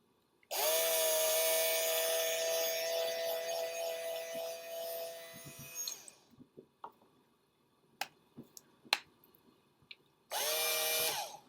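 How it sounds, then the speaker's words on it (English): A power drill whirs steadily for several seconds while poking a hole through plastic, then a few sharp clicks and taps, followed by a second short burst of drilling. "I'm just going to take my drill, and I'm just going to poke a hole just right in the middle"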